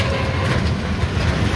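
A train in motion, heard from inside near the main engine: a steady, loud broadband rumble and low-frequency roar with continuous rattling noise, no clear voices.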